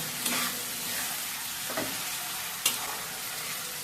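A spice paste of cumin and green chili fries quietly with other ingredients in a pan for chickpea curry, a soft steady sizzle broken by a few sharp spatula scrapes, with no voices.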